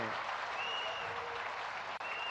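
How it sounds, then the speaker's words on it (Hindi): An audience applauds in honor of Yogi Adityanath at a public event, a dense, steady wash of clapping that fills the whole stretch without a break. "महाराज जी श्री योगी आदित्यनाथ जी के सम्मान में हम तालियों की गड़गड़ाहट कर रहे हैं।"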